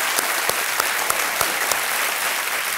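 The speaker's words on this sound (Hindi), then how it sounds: "तालियां बज जाए हमारे बाकी कंटेस्टेंट।" Studio audience clapping for the remaining contestants on the KBC quiz show, a full steady roar of applause with a few sharper, louder claps standing out now and then.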